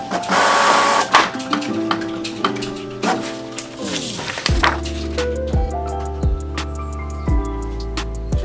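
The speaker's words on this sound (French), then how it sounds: "on va imprimer et on va regarder ce que ça donne" Printer working through a job of pin badge designs, a rapid run of mechanical clicks and stepping whirs with a shifting motor whine, close and steady, with no talk.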